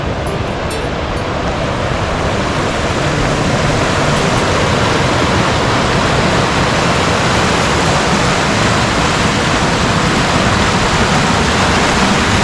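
A mountain creek near a footbridge on a backcountry trail to Forks Campground rushes steadily, a loud, continuous broadband wash of flowing water that stays even and unbroken throughout, with no voices over it.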